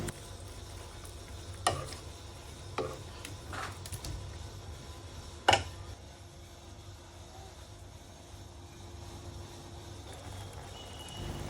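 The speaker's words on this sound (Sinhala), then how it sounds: "දැන් මේ විදියට හැන්දෙන් කලවම් කරමින් කිරි ටික හොඳින් උතුරවා ගන්න." A spoon stirs a coconut milk beetroot curry as it boils, a constant bubbling simmer with a few sharp clinks of the spoon against the pot.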